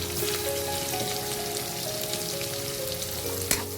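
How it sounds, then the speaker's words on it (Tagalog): Onion, garlic and ginger sizzle in a hot pan in a steady, crackling fry, with light stirring clicks and a sharper clatter near the end. No voices are heard. "Igisa natin yung sibuyas."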